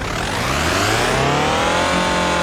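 A loud, steady engine roar that climbs in pitch as it revs, a continuous synthetic-sounding custom engine sound for a 1.9 litre TDI diesel Škoda Octavia in BeamNG, no speech.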